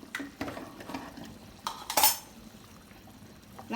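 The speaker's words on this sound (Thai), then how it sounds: "ใส่น้ำตาลให้นิดนึงนิดนึง" A spoon dips into a pot of nam ngiao soup, adding a little sugar. Several light metallic clinks and scrapes sound close by, one louder clatter stands out, and a soft liquid stir runs underneath.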